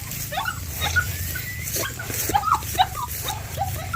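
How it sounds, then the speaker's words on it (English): A dog on its first trip to a rice field whimpers and cries in short, high, wavering bursts, repeated irregularly over a low rumble of background noise outdoors. "Our dog is crying because our dog is first time to go with us here in the rice farm."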